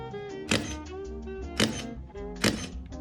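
Three muffled shutter clicks from an Olympus E-1 DSLR, evenly spaced about a second apart, each a soft dampened thunk rather than a sharp snap.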